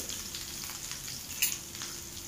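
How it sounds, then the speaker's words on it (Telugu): Garlic and chillies fry lightly in a pan with a soft, steady sizzle, quiet and close, with a few faint clinks of stirring and no voices. "ఇది కొంచెం లైట్గా ఫ్రై అవ్వాలి"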